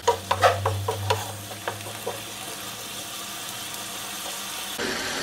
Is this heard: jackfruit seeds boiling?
yes